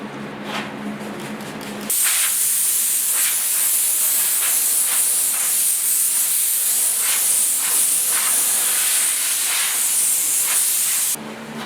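A spray gun sprays paint onto the cab of a 1972 Ford F100 4x4, a loud continuous close hiss lasting about ten seconds with faint pulsing passes, starting and stopping abruptly.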